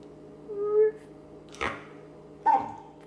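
A dog giving gentle barks outdoors, a soft whine-like vocalization followed by two short, quiet woofs spaced about a second apart, close by over a low background hum.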